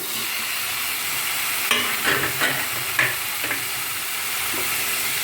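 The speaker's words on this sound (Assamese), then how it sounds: "এতিয়া বিলাহীখিনি মাজতে দি দিম" Chopped tomatoes dropped into the middle of a sizzling fish curry pan with spinach, a steady hiss of frying broken by a few soft splats and stirring knocks midway.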